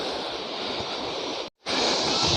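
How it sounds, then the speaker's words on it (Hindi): Waterfall flowing down a barren mountainside on the Kapkot to Munsiyari route, a steady broad rushing roar close by, briefly cut out for a moment before resuming. "तो ये झरने के पास पहुंच गए हैं हम"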